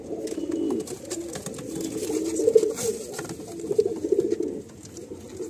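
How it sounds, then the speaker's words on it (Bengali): Several pigeons, including a male Kaldam pigeon being paired with a breeding mate, coo in low, throaty bursts close by, with swelling calls that rise and fall continuously over faint background rustle. "আর এর সাথে আমি এই নর পায়রাটাকে জোড়া বাঁধছি।"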